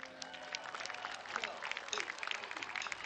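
Concert crowd applauding, a continuous wash of clapping and cheering at moderate distance, with a faint voice and some tonal sound underneath at the start.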